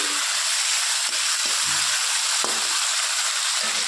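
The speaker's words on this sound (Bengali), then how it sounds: "পাঁচ সাত মিনিট আস্তে আস্তে লাল লাল করে ভেজে নেব" Food fries in a pan over low gas for a simple Bengali dish, a steady loud sizzle with occasional crackles and soft stirring knocks, close by and with no talk.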